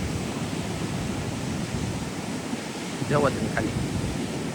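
Sea waves roar steadily against the shore as a dense, unbroken wash of noise, loud and close, while a voice speaks briefly near the end.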